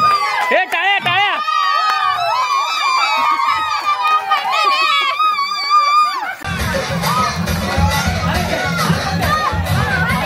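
Audience at a village Home Minister game show during Konkan Navratri bursts into loud clapping and cheering, a dense crowd roar that takes over after a stretch of music and continues to the end.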